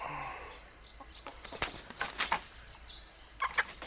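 Chicken in a backyard coop clucking in several short, faint calls spread through a few seconds, with quiet outdoor background between them.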